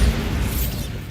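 The Bombarda spell explosion in the video game Hogwarts Legacy opens with a low boom that decays into a brief, dense rumbling crackle, loud and close, lasting about a second.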